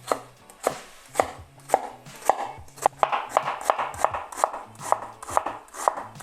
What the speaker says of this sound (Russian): Лучок режу на кубик.